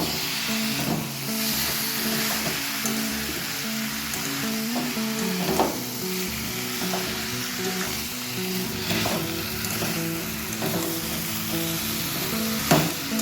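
Chicken pieces frying with chopped tomato, capsicum and green chilli, a steady loud sizzle with scattered stirring scrapes and occasional clacks of the spoon against the pan, close up, nobody speaking.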